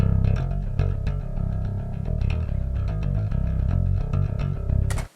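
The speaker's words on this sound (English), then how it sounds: "What you're hearing there is the dry DI signal." An unprocessed bass guitar plugged straight into an audio interface, with no compression or EQ, plays a steady line of low, full notes at an even level for about five seconds, then cuts off abruptly.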